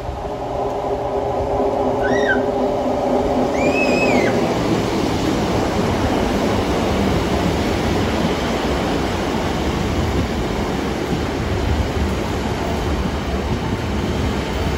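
A high-speed HST train rolls past along the Dawlish sea wall, a dense continuous rumble and clatter of wheels close by, with a few brief squeals early on and no talking.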